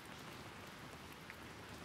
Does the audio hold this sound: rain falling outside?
yes